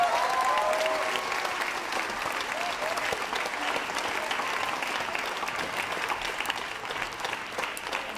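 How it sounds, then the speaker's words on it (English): Sustained round of audience applause at a Grade 5 school annual day at NPS International School, steady and fairly loud across the whole stretch, easing slightly toward the end with no voices over it. "let's just go give those guys one more round of applause"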